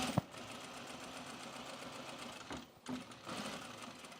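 Sewing machine stitching denim for men's jeans, running steadily at a close, even hum with a couple of brief pauses and a small click near the start.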